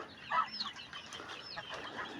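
Chicks in a poultry flock peep softly with a few high chirps and light rustling, faint and fairly close, with no talk.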